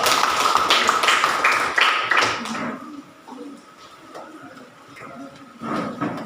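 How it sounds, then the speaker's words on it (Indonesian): A classroom group receives a burst of applause, claps dense and loud through the first few seconds, then thinning out to a few scattered claps and quieter room noise with murmuring voices. "Tepuk tangan sekali lagi buat kelompok 2."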